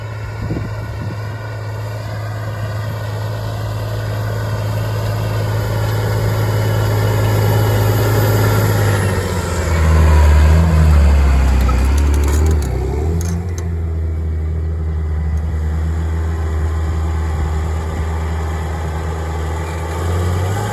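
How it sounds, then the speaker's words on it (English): A heavy A310 tractor engine idles steadily nearby with a low droning rumble, briefly swelling louder midway before settling back to a steady run. "Oh, I love that A310. That is a sweet tractor."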